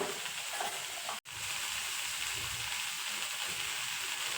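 Whole spices sizzling in hot oil for a paneer curry, a steady dense crackling fry with no talk, broken by one brief dropout.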